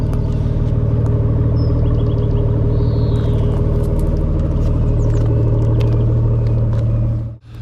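A steady, loud engine drone from an Aston Martin Vanquish Volante convertible runs without a break, a deep, even note with a few faint clicks above it, then cuts out sharply near the end.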